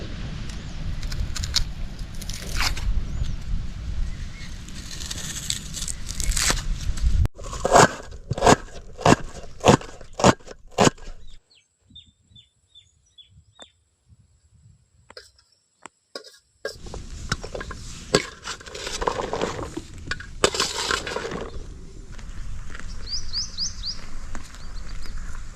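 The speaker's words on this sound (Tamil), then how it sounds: "நெக்ஸ்ட்டு பார்த்தீங்கன்னா வந்து நம்ம வெங்காயத்தை வெட்டிக்கிறலாம்." Knife cutting onions on a board during outdoor village-style cooking, a quick run of crisp chopping knocks in the middle, with scattered clatter, bird chirps and outdoor ambience around it.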